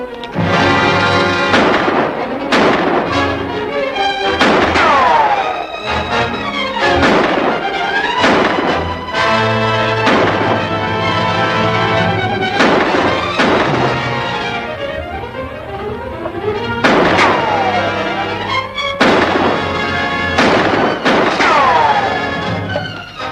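Kegs of coal oil blow up to blast a man out of hiding in a 1947 western serial: a run of loud, booming blasts and crashes, repeated throughout under dramatic orchestral music.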